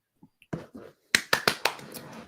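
Audience finger snapping after a spoken-word poem at an open mic night, a few faint taps then a cluster of four or five sharp snaps close together, trailing into low murmur.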